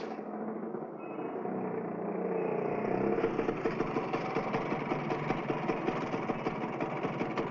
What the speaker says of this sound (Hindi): मोटरसाइकिल बिगड़ गई है।